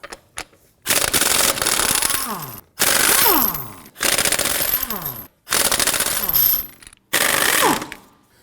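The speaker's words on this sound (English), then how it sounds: "Using a 19mm socket, we want to get it loosened and remove our lug nuts." Pneumatic impact wrench fitted with a 19mm socket loosening rear wheel lug nuts on a 2003-2014 Volvo XC90, firing in five loud rattling bursts of hammering, each one to two seconds long and separated by short pauses.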